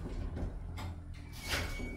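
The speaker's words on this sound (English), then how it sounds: "Doors closing." Doors of a 1989 Stannah lift, modernised in 2004–08, slide shut in a shopping centre car park. The sliding whoosh is faint and muffled over a low machinery hum, with no speech.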